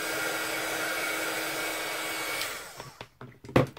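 Heat gun blowing hot air on both sides of a craft piece, giving a steady, close, loud rushing whir that runs for several seconds before switching off, followed by a few handling knocks.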